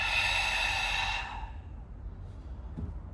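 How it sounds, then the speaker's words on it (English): A long, breathy exhale through the nose or mouth during a slow hypermobility breathing exercise, loud and close at first, then trailing off into quiet room tone with a faint soft breath near the end. "when I inhale breath, in through the nose, exhale"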